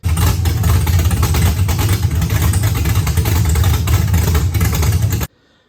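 A loud, raspy 1973 Camaro pro touring race car engine with open headers runs at a steady idle with a rough, throbbing low rumble, then cuts off abruptly into silence.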